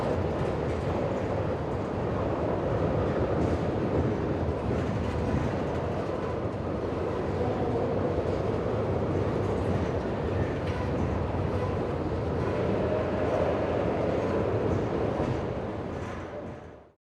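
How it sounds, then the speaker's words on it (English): A long freight train of 110 tank cars led by a hopper rolls past near a Mississippi swing bridge in Minnesota, a steady dense rumble of wheels and rail noise throughout that fades away at the end. "Following the hopper used as a barrier vehicle, there were 110 tank cars in this train."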